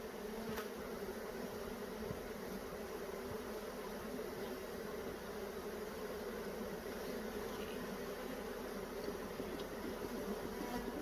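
Honey bees buzzing at an open hive during an inspection, a continuous low droning hum from many insects close by, steady and unbroken with no voices.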